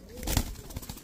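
Pigeons, including teddy, Saharanpuri, gola and racer breeds kept for sale, give a short, soft, nearby coo over low background murmur.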